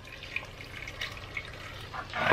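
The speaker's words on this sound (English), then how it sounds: "And then I'm gonna add water." Water trickles and splashes into a cooking pot while a chile-based meat and potato dish is prepared, soft, close and brief, with a louder pour near the end.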